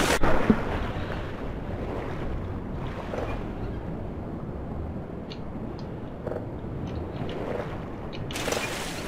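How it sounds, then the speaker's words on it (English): Water rushes and splashes in the video game Black Mesa, a steady surging wash with wind-like noise and a few sharper clicks, moderately loud and continuous. "Oh yes, water!"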